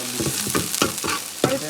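Spice powders frying in a pan for a coconut-based fish curry, a close sizzle with quick repeated stirring scrapes and no talk.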